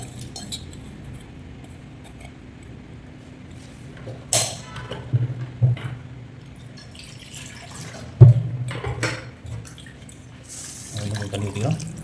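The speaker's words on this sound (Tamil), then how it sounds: "தண்ணி ஊற்றிக்கலாம்." Water poured into a cooking pot of rice for Ramadan nombu kanji, with scattered clinks and knocks of utensils and a short rushing pour near the end, close by.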